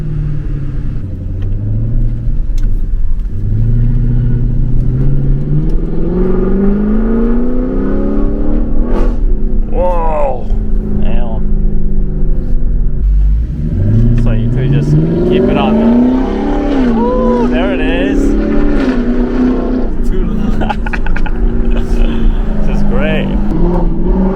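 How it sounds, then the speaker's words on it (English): A Lexus LC 500 V8 fitted with a Shiftpower throttle controller accelerates hard. The loud engine note climbs steadily in pitch through each gear, with a deep continuous rumble underneath. "the Shiftpower is accelerating compared to the original"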